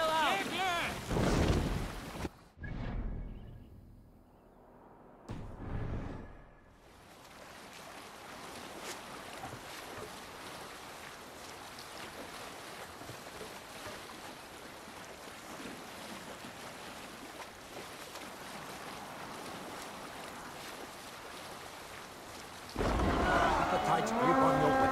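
Sailing ship out at sea in Assassin's Creed Valhalla: a steady wash of waves and wind rushing past the hull for most of the stretch, with short louder bursts of effort and shouting at the start and end.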